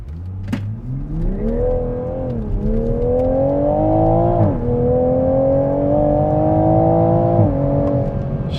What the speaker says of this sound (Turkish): Spor modunda bir daha hızlandıralım.